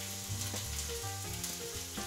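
Continuous sizzling of onions frying in a hot pan, a steady crackling hiss with faint tonal clinks on top.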